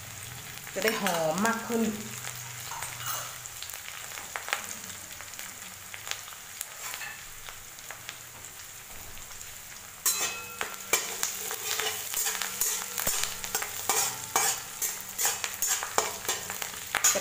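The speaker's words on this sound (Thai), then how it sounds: "ครั้งนี้แม่หญิงจะใส่ใบสมุยลงไปทอดด้วยเลยค่ะ" Curry leaves fry in hot oil with chillies, ginger and garlic for a Thai-Indian curry, a steady close sizzle with stirring clatter that grows crackly partway through, while someone speaks briefly over it.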